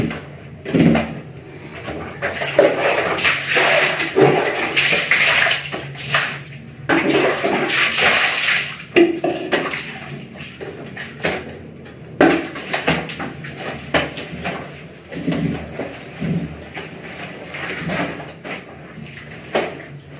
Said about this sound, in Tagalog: pinawashingan na lang natin ng tubig para matanggal na yung mga ibang sabon